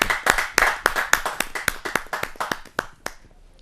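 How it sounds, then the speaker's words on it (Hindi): A live audience at a Hindi kavi sammelan claps to welcome the poet Preeti Tripathi: a close run of sharp, separate claps, loud at first and thinning out as they fade near the end, with no talk. "जरा जोरदार तालियों के साथ हम उनका स्वागत करते"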